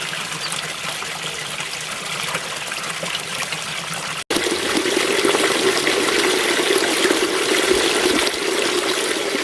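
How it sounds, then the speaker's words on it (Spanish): Water from village fountains trickles and murmurs steadily, a continuous close splashing babble that briefly cuts out and resumes slightly louder. "el murmullo eterno del agua de sus fuentes me hipnotiza"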